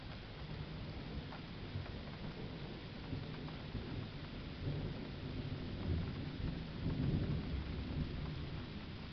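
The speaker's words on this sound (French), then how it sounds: "Mais bon, là, c'est l'orage." Steady heavy rain hisses throughout a June thunderstorm, with deep rolling thunder swelling beneath it, continuous and fairly distant, with no voices.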